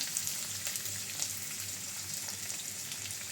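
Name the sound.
stir-frying in a pan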